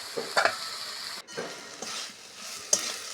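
Drumstick flowers with ground black mustard paste stirred in a pan, with a few scraping clinks of a spoon over a soft, steady sizzle, close and fairly quiet, no talking.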